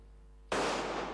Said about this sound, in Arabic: رصاص ينطلق باتجاه قميص ضد الرصاص